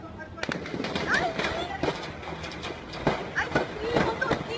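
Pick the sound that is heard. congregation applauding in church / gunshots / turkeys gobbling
gunshots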